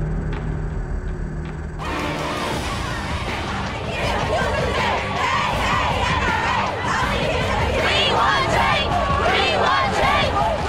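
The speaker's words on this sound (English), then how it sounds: "hundreds of students, their parents and teachers of the Florida high school marching together to demand tougher gun laws" A large crowd of Florida high school students, parents and teachers march and shout for tougher gun laws, loud overlapping chants and yells filling the space after a brief quieter opening.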